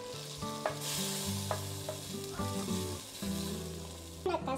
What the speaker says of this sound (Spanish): ahorita estoy sancochando, creo que le llaman, 2 jitomates rojos, 2 dientitos de ajo y un trozo de cebolla con la misma grasita que soltó